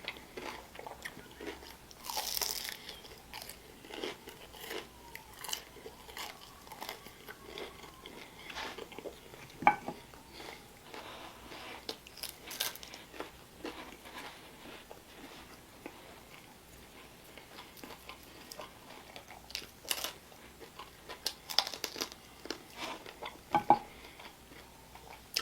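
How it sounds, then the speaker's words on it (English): Crunchy bites and chewing of curry chicken, heard up close as irregular crisp crunches and soft mouth sounds, with sharper bites standing out over quiet intervals. "You hear that crunch?"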